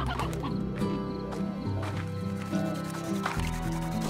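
Chickens cluck from a chicken cloner in the video game Slime Rancher, a busy run of clucks over layered game music and watery dripping effects, steady and moderately loud throughout.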